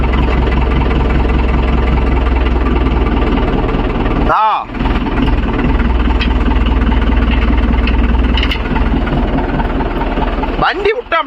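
A Mahindra 415 DI tractor pulling a nine-tine spring cultivator across farmland, its diesel engine loud and close in a steady throbbing rumble that briefly dips twice, with people talking over it.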